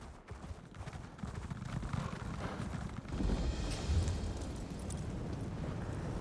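Horse mount hooves clop in the video game Elder Scrolls Online, a steady galloping patter under dense rumbling game ambience that swells midway.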